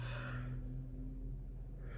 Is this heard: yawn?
yes